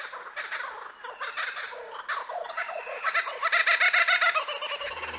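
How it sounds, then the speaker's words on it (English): A run of varied bird calls, chattering and gobbling in quick rhythmic bursts, fairly close and growing busier toward the end. "that's how birds have all their crazy different sounds"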